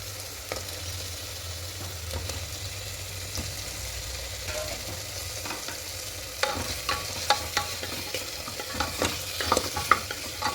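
Chicken sautés with spices in very little oil, a steady sizzle under a low hum, then repeated sharp scraping stirs and clacks of a spatula against the pan.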